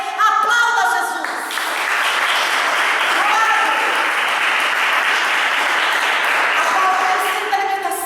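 A church congregation applauds loudly and continuously, a dense wash of clapping that swells after a brief opening moment of speech and holds steady to the end.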